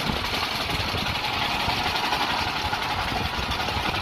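A dune buggy powered by a Honda GX390 generator engine runs in a steady, fairly quiet drone with a busy rattling texture, close and continuous without voices.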